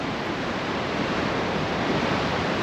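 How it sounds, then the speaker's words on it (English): Seawater surges and crashes into rock fissures in a constant, roaring wash, close and loud, with no distinct individual splashes. "You can hear the water hitting these fissures in the rocks"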